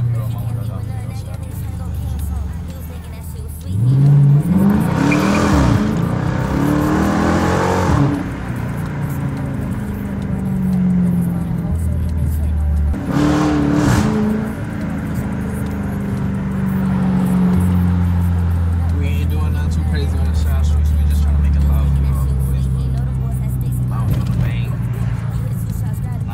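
Dodge Challenger R/T with a 345 engine driving city streets at midnight, a steady loud engine drone and revs swelling at times, with someone talking over it throughout.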